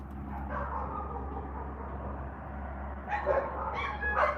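Dogs bark a few times in the distance over a steady low background hum, with quieter stretches between short bursts near the end.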